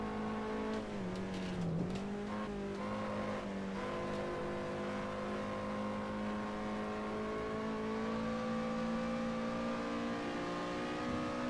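A Lotus Elise engine in Assetto Corsa holds a steady, loud drone with a quick rev dip early on, sustained near and alone while lapping the Nordschleife.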